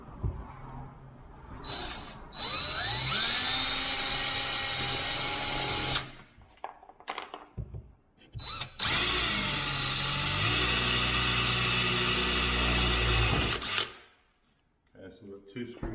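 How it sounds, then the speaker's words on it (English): A power drill with a 4mm bit bores through a plastic jig while a sliding window lock is fitted, giving two loud sustained whirring runs with brief pauses and handling noise between them. "that's the plastic 4mm drill, sorry, plastic jig 4mm drill"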